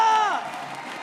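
An arena crowd cheers at an MPL Indonesia Mobile Legends esports match between RRQ and EVOS, a brief loud burst of shouts and whoops that fades quickly, with a voice mixed in.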